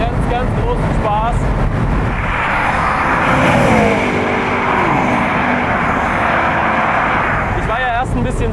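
A McLaren MP4-12C Spyder with a 3.8-litre twin-turbo V8 accelerating in gear, its loud engine tone rising and shifting under steady road roar while someone talks over it.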